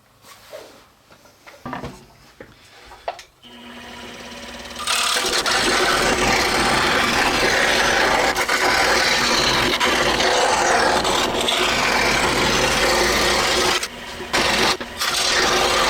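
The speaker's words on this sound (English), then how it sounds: "Then we're going to take it over to the scroll saw and we're going to cut it out." A scroll saw cuts a wooden template piece, a loud, steady rasping buzz of the blade that starts after a few quiet seconds of handling and continues almost without break, with brief pauses near the end.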